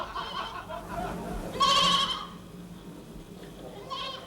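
Sheep bleat from a pasture: one clear, wavering bleat rises in the middle and a fainter call follows near the end, over a soft steady background.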